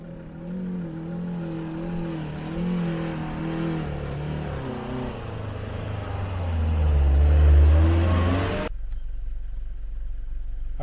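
A 4WD climbs a sand dune in second gear low range on soft, low-pressure tyres, its engine droning steadily, swelling to a heavy low-pitched surge near the top, then cutting off abruptly.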